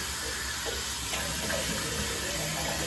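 Tap water running steadily into a sink during a rinse after a shave, a soft continuous hiss with faint splashing.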